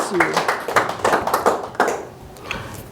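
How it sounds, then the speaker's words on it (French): A church congregation claps during a sermon, with scattered, uneven bursts of hand claps mixed with voices, tapering off toward the end. "Applaudissez l'Éternel."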